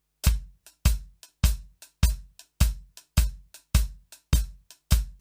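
Swing rhythm played on a drum kit, the middle note of each triplet left out, giving a loping long-short pattern of strong booming hits with lighter pickup strokes, close and clear with no voices.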